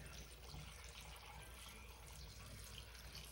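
Water pours steadily into a crock pot for making chicken bone broth, a faint, continuous splashing trickle with no talking.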